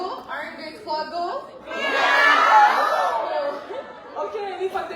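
A large crowd at a Scentsy World Tour event in Montréal shouts and cheers, with a loud swell of voices in the middle and mixed chatter and cries before and after.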